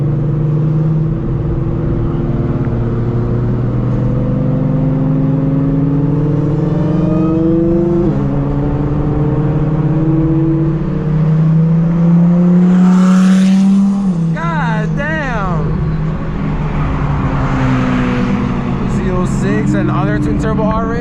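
A Dodge SRT Hellcat engine drones loudly and steadily while driving and chasing supercars, its pitch climbing and dropping through gear changes, with voices talking over it and other cars passing close by.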